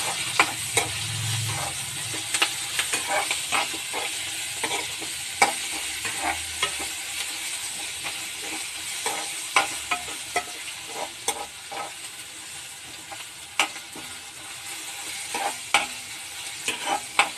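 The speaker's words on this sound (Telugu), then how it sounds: "క్యారెట్ తురుము వేసుకోవాలి. సో దీన్ని కూడా బాగా ఫ్రై చేయాలి." Grated carrot frying with green chilli and ginger for curd chutney, a steady close sizzle with frequent scraping stir strokes throughout, no voices.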